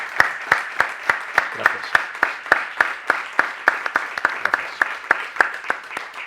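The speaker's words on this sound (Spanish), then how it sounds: "Pido para el ponente un fortísimo aplauso." Slow, evenly spaced claps ring out for a speaker at an economic conference, a steady rhythmic beat of single sharp hand strikes, fairly close and loud.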